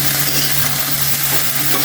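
Eggplant frying in a pan for a bhaji is stirred, giving a steady close sizzle with soft scraping over a constant low hum, no voices.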